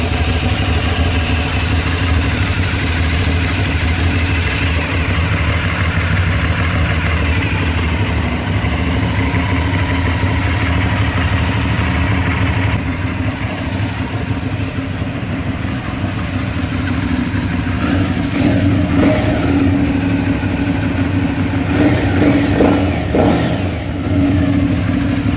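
An Aprilia Shiver 750 motorcycle's four-stroke V-twin idles with a steady, loud rumble, then revs in a few swells toward the end.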